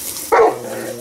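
A single short, loud bark from a dog outdoors in a front yard, close by.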